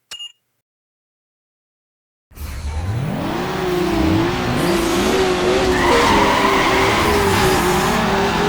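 A car in the Need for Speed Underground racing game, after a moment of silence, launches into loud, sustained engine revving with rising gear-change pitch and squealing tires, close and continuous to the end.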